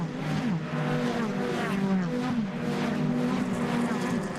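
Ford Fiesta race cars pass at speed on Snetterton circuit in a BRSCC Fiestas championship race, with a dense continuous engine roar and shifting whining revs as several cars go by, steady and loud.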